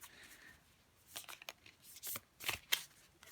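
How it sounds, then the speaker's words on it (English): Oracle deck cards being shuffled by hand, a series of soft papery riffling bursts and brief slaps spread unevenly across a few seconds, fairly quiet and close with no talking. "I'm shuffling with my eyes closed here"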